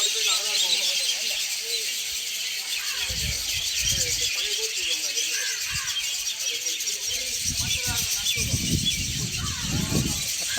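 A flock of small sparrows in a little tree chirps and twitters continuously, dense overlapping high calls at moderate distance, with a voice talking intermittently underneath.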